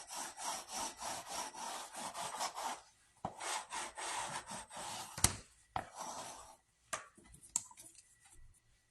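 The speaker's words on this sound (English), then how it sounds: "I'm just going to use my bone folder and I'm just going to go around." A bone folder rubs around the edges of scrapbooking paper with quick, scratchy back-and-forth strokes, close and dry, broken by short pauses and a few taps near the end.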